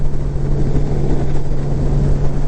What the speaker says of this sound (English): you can hear the engine, it's revved up pretty good